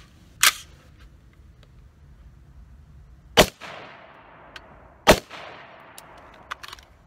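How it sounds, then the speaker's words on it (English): Three sharp, separate cracks from 5.56 rifle rounds, green tip and standard, strike a Premier FORTIS steel body armor plate at an outdoor range. Each is followed by a short ringing decay, with long quiet gaps between them. "I'm going to shoot that green tip first"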